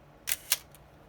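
A Miranda Auto Sensorex EE SLR camera's shutter fires at 1/8 second, two crisp close mechanical clicks about a quarter second apart, followed by a faint third tick, in a quiet room.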